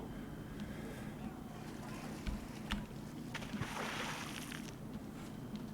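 Swimming underwater in the video game Red Faction gives a continuous muffled watery wash with brief sloshing surges and bubbly bursts at a steady, subdued level.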